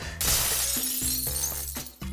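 Dishes and crockery are knocked off and shatter on a hard floor, a loud crash of breaking glass and ceramic followed by a few bouncing, tinkling shards, with no talking.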